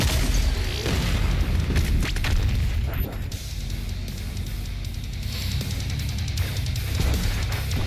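BFG 10,000 firing in Doom Eternal: a sustained deep rumbling boom that rolls on for several seconds, loud and dense, with a few sharper bursts mixed into the low roar.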